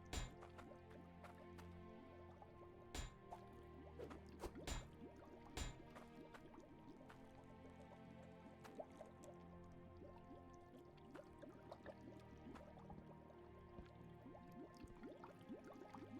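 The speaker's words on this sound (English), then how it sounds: "What is bubbling in there?" Liquid bubbles and drips inside equipment in the video game Hydroneer, quiet sparse plops and gurgles spaced irregularly over a soft background, with no talking.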